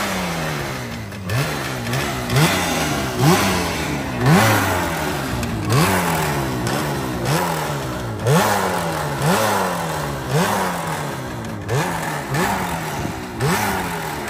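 A 1967 motorcycle engine revs repeatedly outdoors at Sturgis, each throttle blip climbing and falling in a steady cycle of loud, close bursts over a rough mechanical idle, with no talking.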